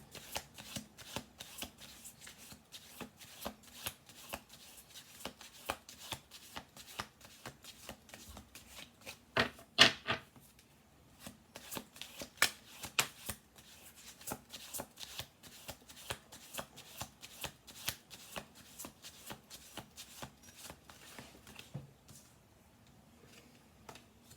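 A deck of tarot cards is shuffled again and again, soft rapid riffles and slaps in quick uneven bursts, close and quiet, with no talking.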